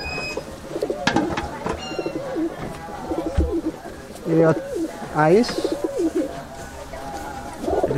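Pigeons coo repeatedly in a Murshidabad loft, male and female birds together, with rolling calls recurring close by through the clip while someone talks over them.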